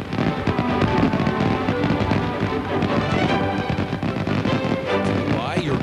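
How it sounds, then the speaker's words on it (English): Fireworks at Cincinnati Riverfest burst in a dense, continuous barrage of crackles and booming thuds, loud and sustained throughout with no pauses between explosions. "we have to take one last look at those spectacular fireworks"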